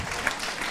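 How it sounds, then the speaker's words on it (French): Brief burst of audience applause for young researcher finalists at a regional science communication final, a dense patter of clapping heard in a short, fairly quiet snippet. "on vous applaudit, on vous remercie"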